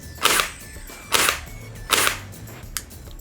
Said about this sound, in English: the moment I pull the trigger, it's going to shoot and then pull the gears back